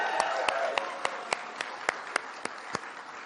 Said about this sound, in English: Can we please applaud Sophia?